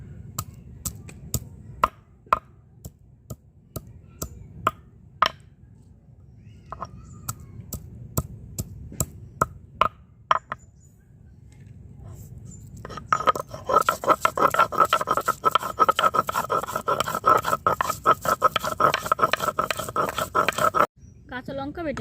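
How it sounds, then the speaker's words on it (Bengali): Ginger crushed on a stone grinding slab for a fish curry of desi magur, koi and tangra: a rough, rhythmic scraping and rubbing that starts sparse and becomes a dense, steady grind in the second half, close and fairly loud. "আদা বেটে নেব।"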